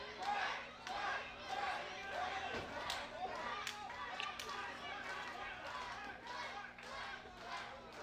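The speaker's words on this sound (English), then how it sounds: "Crowd is definitely responding to all of this." Wrestling crowd at an IWE Redemption show cheering and roaring steadily in a large room, a dense continuous wash of voices with sharper shouts and bursts rising throughout.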